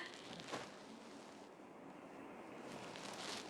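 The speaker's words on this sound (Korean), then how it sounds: "나이아가라 폭포." Niagara Falls, the large waterfall on the US–Canada border, gives a steady, dense roar of falling water that fills the whole stretch, with slight swells in loudness.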